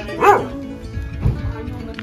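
A dog on the Camino gives a short, sharp bark close by, followed by quieter low rustling and faint background noise.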